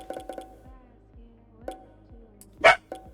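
A dog barks in the video game Ghostwire: Tokyo, a run of short, sharp barks at the start, a couple more spaced out, then one loud yelp near the end, fairly close and clear over a quiet game backdrop.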